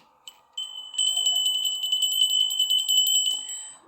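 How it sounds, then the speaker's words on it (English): A bright bell rings in a quick, steady run of repeated strikes, clear and fairly close, with a single tap and a short pause before the main ringing, then fading out. "And here's the beautiful bell,"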